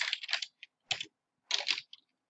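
Quick bursts of keystrokes on a computer keyboard while searching for 7-Zip, several short clusters of clicking taps separated by brief pauses, close and fairly quiet with no talk.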